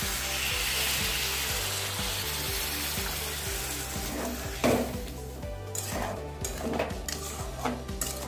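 Fried mushrooms are stirred in a pan of masala: a hissing sizzle early on, then scattered utensil scrapes and knocks against the pan, with background music throughout.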